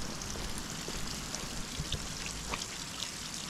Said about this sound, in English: there's just water seeping out of everywhere.